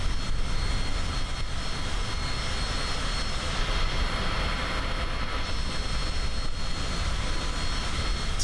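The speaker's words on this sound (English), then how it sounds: "It's a CJ4, that's the name of the plane." Steady, loud jet drone from a CJ4 business jet in Microsoft Flight Simulator, a continuous broadband roar with a faint high whine holding evenly throughout, no voices over it.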